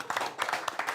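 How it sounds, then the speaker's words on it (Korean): A church congregation gives brief, scattered handclaps during a live worship service, a short patter of applause heard fairly close. "우리 박수 한번."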